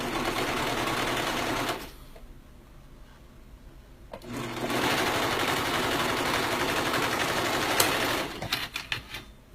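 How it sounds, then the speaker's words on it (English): A serger sewing fabric whirs in a steady fast mechanical buzz, stops briefly, then runs again before ending in a few quick clunks. "I find it easier to sew that with the serger"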